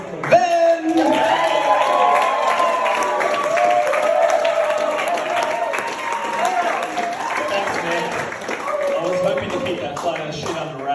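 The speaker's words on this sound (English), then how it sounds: "Give him a massive round of applause" A crowd at a stand-up comedy show applauds a comedian, a continuous wash of clapping and some cheering that lasts several seconds while a voice talks loudly over it.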